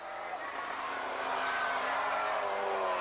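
Mini stock cars with unlimited engines race around the Warton oval at a 1998 club meeting, one running without front fairing; a loud, continuous roar of engines fills the track with rising pitch as cars pass close by.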